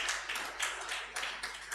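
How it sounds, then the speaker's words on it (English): An audience at a law week event for female lawyers in Ikeja applauds, a dense, continuous patter of many hands that swells and dips slightly, heard from a moderate distance. "Please, can we just give you a round of applause for that?"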